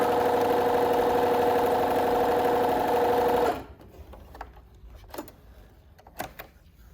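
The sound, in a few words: Bernina B325 sewing machine stitching 8 layers of denim onto organza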